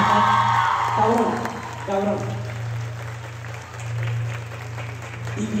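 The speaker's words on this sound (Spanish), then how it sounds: "quiero un fuerte aplauso para ella." Loud audience applause and cheering at a birthday concert celebration for a sister named Miriam, a dense roar of clapping with whoops that surges, dips and builds again, with a voice calling out over it.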